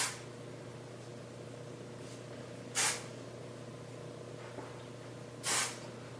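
Two short hissing bursts of aerosol hairspray, about three seconds apart, over a steady low background hum.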